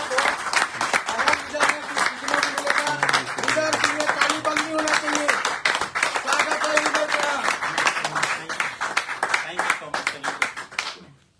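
Audience applause fills a meeting hall at a business gathering, a dense, loud burst of many hands clapping that holds steady for about ten seconds, with a voice speaking over it before it fades out.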